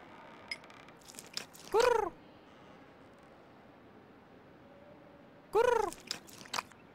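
A cartoon cat in the Edna & Harvey adventure game gives two loud, wavering meows a few seconds apart over faint background ambience, with small clicks and rustles between them.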